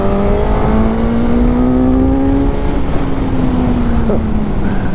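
A 2021 Suzuki GSX-S 1000 motorcycle with 152 horsepower accelerates hard, its engine pitch climbing steadily through the gears in a loud, close whine over wind roar, while a rider talks over it.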